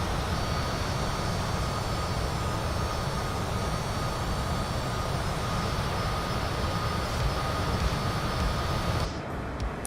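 A Citation CJ4 business jet climbing in flight, heard from inside the cabin as a steady broadband engine and airflow roar with a faint high whine, continuous and loud throughout before a slight dip near the end.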